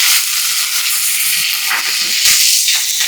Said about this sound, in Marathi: यामध्ये कांदा